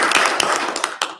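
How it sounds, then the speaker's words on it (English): Audience applause at a business panel event, a brief burst of dense clapping close by that tapers off within about a second. "A round of applause once again."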